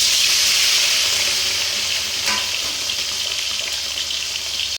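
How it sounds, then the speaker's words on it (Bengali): Prawns fry in hot oil with a dense, bright hiss that stays steady and close throughout, with a couple of faint pops along the way. "এবার কিন্তু তেলের মধ্যে দিয়ে ভেজে নেবো এগুলোকে"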